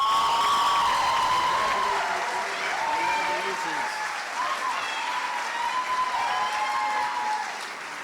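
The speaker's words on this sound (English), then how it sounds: "If we could have another round of applause for all of our winners tonight." Sustained applause from a large audience at a senior awards ceremony, steady clapping that carries on for several seconds before easing slightly at the end.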